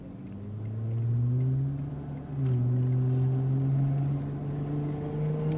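A nearby car with no muffler revs its engine, a loud rough drone rising and falling in pitch as it accelerates, heard with no voices.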